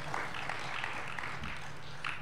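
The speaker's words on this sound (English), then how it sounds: "That's your cue to clap." Steady applause from a convention panel audience at EVO 2014, a dense, even wash of many hands clapping at a distance, continuous and fairly soft throughout with some faint crowd murmur underneath.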